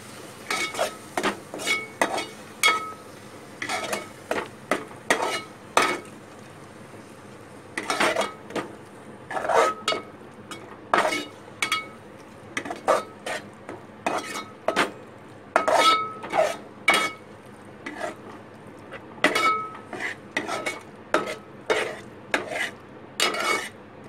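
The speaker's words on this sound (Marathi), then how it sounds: "आता टाकते वाटप जे खोबऱ्याचं केलं होतं ते। सगळं एकत्र करून घ्यायचं।" A spoon stirs and scrapes through cabbage and chana dal bhaji as coconut paste is mixed in, making steady rhythmic clinks and scrapes against a metal pan, close and distinct with no talk.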